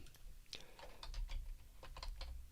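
Fingers tapping on a computer keyboard, a quick irregular run of about a dozen crisp clicks in close succession over a low room hum, with no talking.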